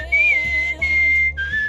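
A game character whistles a song in Where the Water Tastes Like Wine, a clear, steady melodic whistle holding and sliding between notes over soft low background music, with no talk.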